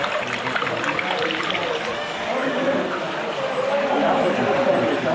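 Spring water flows continuously at the Sri Yaganti Uma Maheswara Temple in Andhra Pradesh, a steady close splashing rush, with a voice talking over it.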